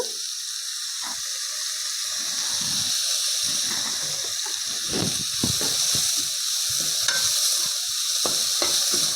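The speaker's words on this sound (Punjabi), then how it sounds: "ਪਿਆਜ਼ ਨੂੰ ਵੀ ਆਪਾਂ ਹੁਣ ਹਲਕਾ ਜਿਹਾ ਭੁੰਨ ਲਾਂਗੇ" Onion and tomato with salt sautéing in a pan for a green chickpea paneer sabji, a steady close sizzle with frequent scraping and stirring clatter throughout, no talking.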